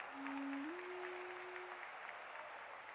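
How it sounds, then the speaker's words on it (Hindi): A crowd applauds Pratap ji at a Hindi devotional discourse, the Bageshwar Dham pravachan, with steady, dense clapping for about three seconds and a brief sustained tone early on. "एक बार प्रताप जी को ताली बजा के जरूर धन्यवाद दो।"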